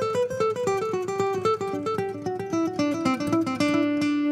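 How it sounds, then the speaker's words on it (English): Electric guitar run through a dotted-eighth delay pedal, a steady stream of clean picked notes with echoes interlocking into a flowing rhythmic pattern, loud and close with no talking. "First up, we've got dotted eighths."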